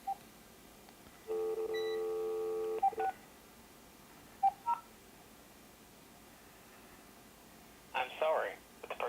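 A telephone call is dialed through a handset on UPS backup power: a steady tone, then a run of short DTMF keypad beeps, then a brief ringing burst near the end, quiet and close with no talking.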